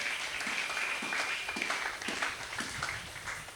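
Congregation clapping during a church worship service, a steady rhythmic wash of hands beating together that fills the room at moderate volume without pause.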